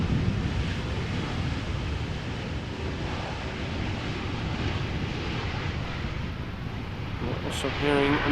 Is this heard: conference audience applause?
no